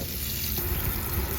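Water gushes steadily through an opened valve out to a hose on the outside of a converted Promaster van, a constant close hiss with no voices.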